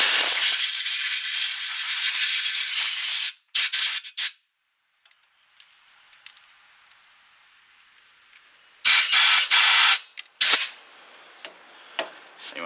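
A compressed-air blowgun blasts into an engine valve guide during a home valve job: two long, loud hissing bursts with short sharp puffs after them and a quiet stretch between.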